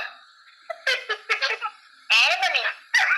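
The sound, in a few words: mobile phone sound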